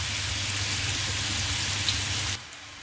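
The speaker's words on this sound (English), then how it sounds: "I'm going to saute it for a few minutes" Smoked basa fish fillets sauté in a pan with a steady, close hissing sizzle that cuts off abruptly near the end.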